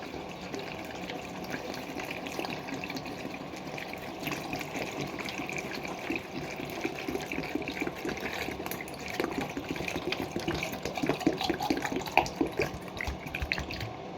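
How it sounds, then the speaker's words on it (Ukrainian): Water poured into a three-litre bottle, a steady close trickling and splashing that runs throughout with no pauses and gets slightly livelier toward the end. "Доливаю водички."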